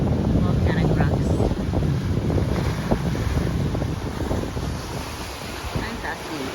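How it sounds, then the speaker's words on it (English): Ocean waves break and wash against volcanic rocks along the road to Hana, a steady roaring surf with gusting wind buffeting the microphone throughout. "I'm fascinated with this ocean, hitting the rocks."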